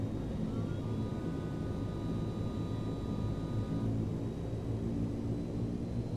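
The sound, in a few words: larger airplane crossing the runway while taxiing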